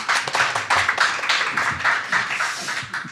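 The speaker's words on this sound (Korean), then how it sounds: "박수로 환영해 주시기 바랍니다." A conference audience at an academic meeting claps to welcome a presenter: a continuous, fairly close patter of many hands lasting a few seconds, without voices.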